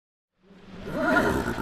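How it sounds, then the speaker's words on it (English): A quiet, 22-year-old retired kid's horse gives a short whinny-like vocal sound that swells from silence and holds loud to the end, close to the microphone. "This is Taz, He's just a super quiet kid's horse"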